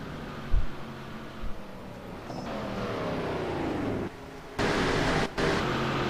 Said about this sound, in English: Maybe they're not out of gas. I can hear their engines.